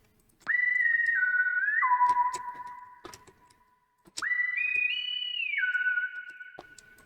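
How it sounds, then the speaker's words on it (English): A high whistle sample, two bright tonal phrases that step down in pitch, each lasting a few seconds and separated by a short gap, heard alone. "like the high whistle sound."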